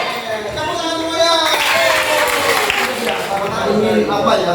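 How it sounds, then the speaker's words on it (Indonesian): Students in a classroom clap together in a steady, continuous round of applause lasting several seconds, moderately loud and close, with some background voices mixed in. "Tepuk tangan semuanya."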